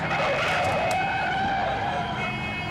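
A car skidding across the road, a loud sustained tire squeal over engine and road rumble lasting the whole moment, close and dominant with no talk.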